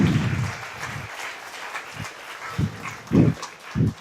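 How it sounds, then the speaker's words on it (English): An audience applauds at the close of a PyCon Belarus conference talk: a steady wash of clapping that lasts about four seconds, with a few heavier thumps near the end. "Applause, please."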